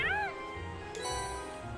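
Celine, a cat in the video game Trails of Cold Steel, gives a short rising-and-falling meow near the start, then a softer second call. Game music and ambience continue underneath.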